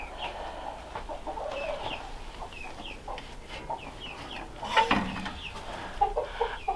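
Chickens cluck and murmur inside a heated barn after a blizzard, several birds giving short, repeated calls close by, with a louder squawk near the end and no talk.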